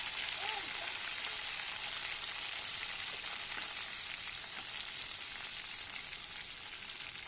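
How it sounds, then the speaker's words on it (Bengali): Green chillies sizzle steadily in hot oil with garlic, a continuous bright frying crackle that holds even and close throughout, with no voices. "লঙ্কাটাও ছেড়ে দিয়েছি তেলের মধ্যে"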